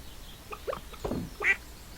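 A chicken in the farming game Stardew Valley gives a few short, quiet clucks in quick succession, small isolated calls over a hushed background.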